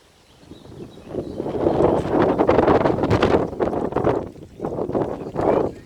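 Strong wind gusts buffet the microphone outdoors, a loud rumbling roar that swells and fades in several waves.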